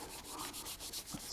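A magic eraser scrubs a scuff mark off the back cover of a 1974 Singer Genie sewing machine, giving a faint, close, steady rubbing with soft back-and-forth strokes.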